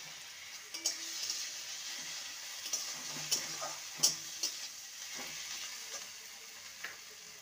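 Ginger, garlic and green chilli paste frying with onions for a spicy okra curry, a soft steady sizzle broken by sharp spatula taps and clicks against the pan, with no talking.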